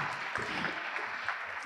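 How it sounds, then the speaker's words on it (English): Audience applause at an award ceremony honoring a women's history honoree: a steady, fairly faint wash of clapping from a crowd that continues evenly throughout, with no voices on top. "Give a big round of applause to Kelly."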